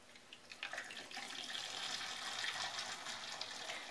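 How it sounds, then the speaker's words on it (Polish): Hot water pours steadily into a pot holding glass jars, starting with a few splashes and then settling into a continuous gushing rush. "I wlewam gorącą wodę."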